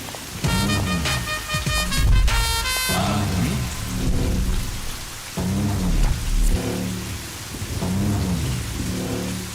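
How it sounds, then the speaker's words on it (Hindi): Heavy rain with rolling thunder from a dubbed Bhojpuri action-romance film, a steady loud downpour with repeated low rumbles and a swelling music score over it, no talk. "इतना बारिश गिर रहा है, छतरी नहीं लाए हो का?"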